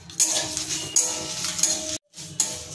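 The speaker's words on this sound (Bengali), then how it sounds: "দিয়ে দিচ্ছি জিরে, দিয়ে দিচ্ছি তেজপাতা, দিয়ে দিচ্ছি শুকনো লঙ্কা। এগুলো একটু ভাজবো।" Cumin seeds, bay leaves and dried chillies dry-roast in a pan, making a constant close crackle and rustle broken by several scraping stirs, with a brief silent dropout near the end.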